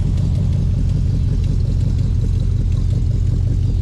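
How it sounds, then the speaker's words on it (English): A lowrider car engine idles with a steady, loud, low rumble and a slightly rough, raspy exhaust note from an exhaust leak throughout, with no voices. "Got a little bit of an exhaust leak."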